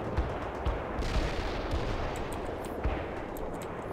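Dense, continuous artillery barrages in the real-time strategy game World in Conflict, a steady rumble of overlapping explosions and gunfire with heavier thuds standing out every second or so.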